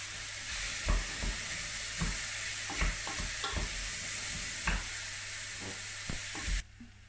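Forty grams of butter melting in a pan on low heat, a soft continuous sizzle and hiss with scattered light clicks and pops, fairly quiet and without talking.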